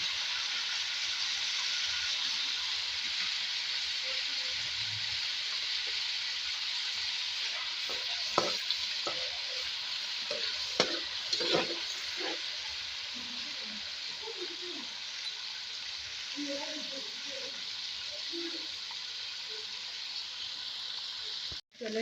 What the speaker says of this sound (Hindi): अदरक लहसुन फ्राई हो चुका है